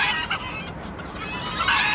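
Several bantam chickens cluck close by in a busy, overlapping chatter, with scratchy rustling beneath and no talking.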